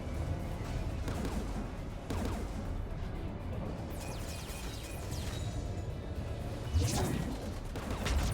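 Gunfire in the video game Mass Effect 3, a continuous barrage of shots and bursts with sharper cracks and a louder blast near the end, mixed with voices talking.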